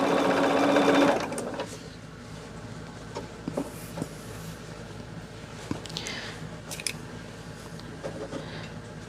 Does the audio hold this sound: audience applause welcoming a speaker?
no